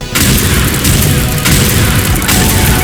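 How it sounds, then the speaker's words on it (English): A bazooka explodes in a Line Rider game with heavy, continuous booming. Loud, dense blasts repeat in rolling waves across the whole stretch, with no talking. "let's get back to making things explode"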